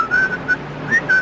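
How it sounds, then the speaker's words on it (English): A clear, high whistle sounds in several short bursts, two quick tones, a pause, then two more, loud and near. "Whistle. Whistle?"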